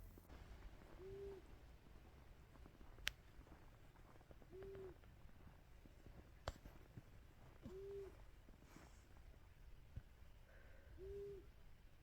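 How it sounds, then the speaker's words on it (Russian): An owl perched in a tree beside a village house hoots four times at slow, even intervals, clear but moderately distant against a quiet background with a few faint clicks. "я услышала, как кричит сова, которая сидит на дереве возле моего дома"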